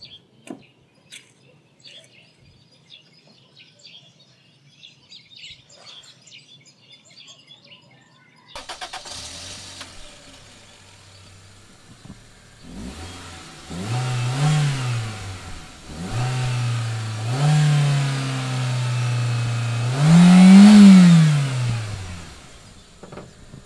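A car engine cranks and catches after a failed attempt, then idles and revs in several rising surges, loud and close, with faint bird chirps in the quiet stretch before it.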